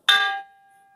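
A brass uruli vessel is struck once, giving a bright metallic clang that settles into a single long, clear ringing tone fading slowly, close and alone.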